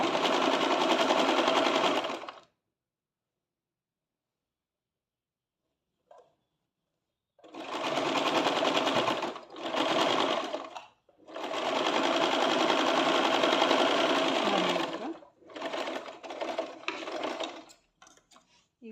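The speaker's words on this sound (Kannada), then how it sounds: "ಸ್ಟಿಚ್ ಮಾಡಿದ್ದೀನಿ ನಾನು" A sewing machine stitches the side cut of a churidar in loud, close, rattling runs. Several bursts of varying length are separated by silent pauses, ending in short choppy spurts.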